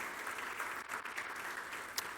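Applause from a church congregation rolls on as a soft, even patter of many hands, somewhat distant and quiet throughout.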